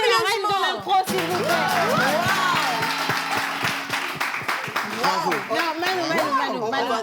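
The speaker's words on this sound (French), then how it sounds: "Est-ce qu'on peut l'applaudir encore?" A live audience at a French show applauds a performer after an improvised song, a dense burst of clapping with excited voices and cheers mixed in, swelling and continuing throughout.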